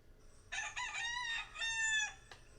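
A single loud rooster crow rises and holds in a drawn-out cock-a-doodle-doo, heard alone against a quiet background.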